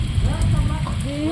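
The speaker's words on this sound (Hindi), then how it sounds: "अभी तक बारिश हो ही रहा है" Heavy rain pours steadily during a downpour at a flooded forest home, a dense, continuous hiss close by, with faint tonal sounds running through it.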